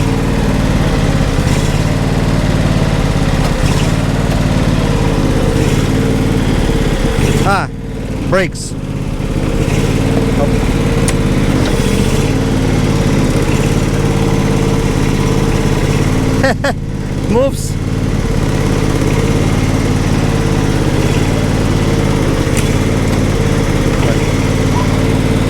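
A John Deere SST16 zero-turn lawn mower, an old barn find, runs with a steady, close engine drone that dips briefly twice. Someone talks over the running engine.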